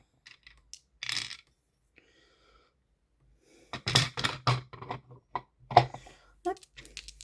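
Two dice rolled for a Monopoly board game: a brief rattle, then a quiet pause and a longer burst of clattering tumbles on a hard surface, with some talk mixed in.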